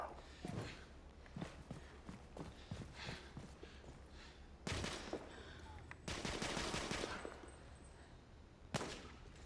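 Gunfire in the shooter The Order: 1886, sharp scattered shots and bursts over several seconds, some loud and close, with short gaps between them and no voices.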